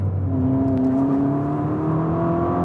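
A Ferrari SF90 hypercar's V8 engine hums steadily and then rises gently in pitch as it revs, heard continuously and fairly loud from inside the car.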